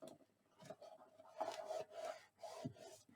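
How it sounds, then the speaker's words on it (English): Chipboard is burnished against chipboard while building a craft book box: several short, close rubbing strokes in quick uneven bursts, soft and dry, with quiet pauses between them. "we press this right here, and we burnish"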